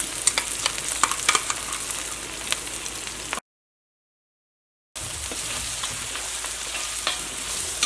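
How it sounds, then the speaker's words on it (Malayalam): Sliced onions with ginger garlic paste frying in a pan for chicken roast, a steady crackling sizzle with stirring scrapes, cut off by a gap of total silence in the middle before resuming just as loud. "ഈ സവാളയും ജിഞ്ചർ ഗാർലിക് പേസ്റ്റും കൂടിയിട്ട് നന്നായിട്ടൊന്ന് മുരിഞ്ഞ് വരണം."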